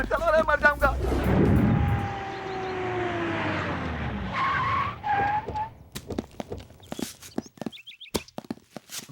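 In a dubbed South Indian action movie scene, a car tears away with a long, loud tyre squeal and engine roar that fades over several seconds, followed by scattered sharp clatters and thumps.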